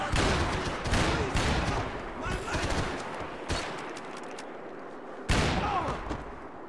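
Gunfight in Max Payne 3, with loud bursts of rapid automatic fire and sharp single shots in clusters, separated by brief lulls of echoing room noise.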